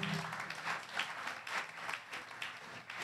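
An audience at a church conference claps in a quiet, fairly distant burst of applause, with the claps falling into a loose, rhythmic pulse.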